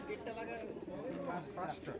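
Pigeons cooing amid a busy crowd at a pigeon market in Sarulia, Bangladesh, with many people talking loudly throughout the short stretch.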